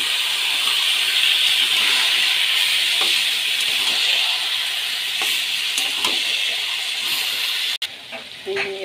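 Spiced chicken pieces tipped onto fried onions in a pan for a dry-style curry sizzle loudly and steadily. Faint stirring scrapes come through before a sudden break near the end.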